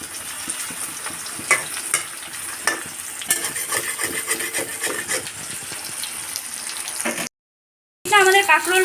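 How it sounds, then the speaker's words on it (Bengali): Teasel gourd being fried and turned in a pan for a Bangladeshi dopeyaza, with steady sizzling and repeated scraping stirs close by, a short silent gap near the end, then louder frying resumes. "আমার কাঁকরোলগুলোকে উল্টে পাল্টে ভেজে নিচ্ছে।"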